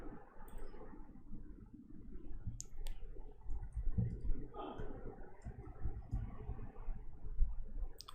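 Computer mouse clicks while a folder is created in MATLAB, a handful of faint, sparse clicks spread over soft background noise with no speech.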